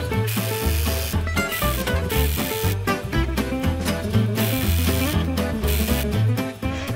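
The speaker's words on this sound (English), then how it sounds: "back to the sewing machine." A sewing machine runs steadily with a fast mechanical rattle, stitching hat netting, continuous and close, with brief pauses in rhythm.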